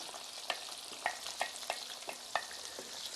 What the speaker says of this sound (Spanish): ahora echamos las chalotas con los ajos tiernos, que se vayan friendo.